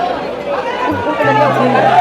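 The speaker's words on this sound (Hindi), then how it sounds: "बहुत भीड़ है, खतरनाक भीड़ है।" A huge, dense crowd at Grishneshwar temple fills the air with a continuous babble of many overlapping voices, close and loud, while one voice talks nearby.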